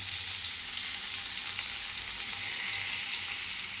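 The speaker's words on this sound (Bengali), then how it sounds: "এক পিঠ ভাজার পরে পটলগুলোকে উল্টে আর একটা পিঠ ভেজে নেব।" Steamed pointed gourd (potol) pieces frying in a pan give a steady, close sizzle that holds evenly throughout, with no talking.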